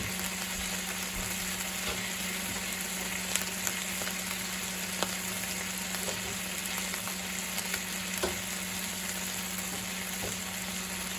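Flat iron steak frying in a pan after the vegetables come out, a steady close sizzle with soft crackles and pops running throughout, no voices.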